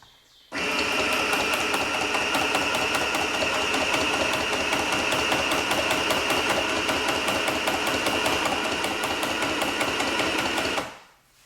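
A Singer M1000 sewing machine stitches test cloth in one continuous run of rapid, even needle clatter and motor whir, loud and close. It starts abruptly, runs steadily for about ten seconds, then winds down, with no talk.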